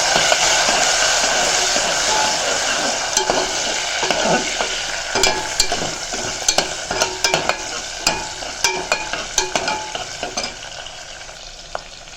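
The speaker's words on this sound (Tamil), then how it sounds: "பூண்டையும் சேர்த்து நல்லா வதக்கிக்கலாம்" Garlic sautéing in a pan for a village-style kara kuzhambu, a steady close sizzle with repeated sharp scrapes and clinks of a stirring spoon growing more distinct toward the end.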